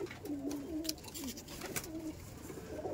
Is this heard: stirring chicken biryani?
no